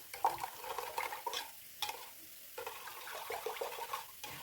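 Pasta in a watery sauce being stirred in a pan, soft wet sloshing and scraping strokes in irregular bursts with brief pauses, quiet and close.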